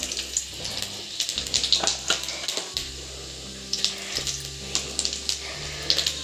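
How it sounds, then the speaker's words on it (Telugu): Onions fry in hot oil with cumin, a crackling sizzle with bursts of popping over a low steady hum. "ఉల్లిగడ్డలు ఇవైతే వేగనివ్వండి ఫ్రై అయినాయి"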